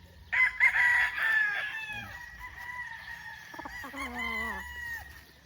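A sweater gamefowl rooster crowing once, a loud, close, drawn-out cock-a-doodle-doo followed by softer clucking notes, with quiet farm ambience around it.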